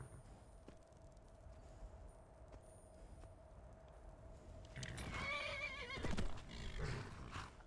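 A horse whinnies in a video game, a loud drawn-out neigh rising after a stretch of faint background hum, with hoof clatter and game noise around it.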